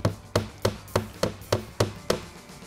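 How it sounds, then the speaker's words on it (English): A hammer drives a nail at an angle into drywall with eight evenly spaced, sharp blows, each one a close, solid knock with a short decay. "hold the nail at a 45 degree angle upwards and nail it down into the drywall"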